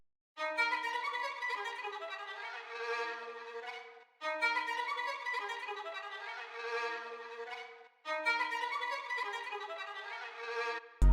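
A dark melodic loop phrase, pitched down with a low cut and reverb, plays three times with bell-like sustained tones and brief gaps between repeats.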